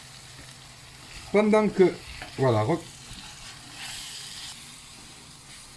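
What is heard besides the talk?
eggplant frying and sizzling in a pan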